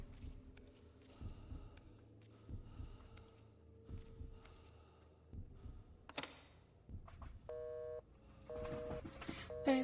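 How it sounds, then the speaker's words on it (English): Telephone busy signal in The Suffering on PS2, a run of short evenly spaced electronic beeps heard faintly under footsteps and quiet ambient game noise. "Beep, beep, beep, beep. Busy line."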